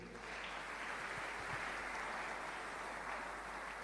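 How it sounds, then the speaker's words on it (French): Steady applause from a church congregation, dense and even throughout, filling a large hall with continuous clapping and no pauses. "Nous acclamons pour eux."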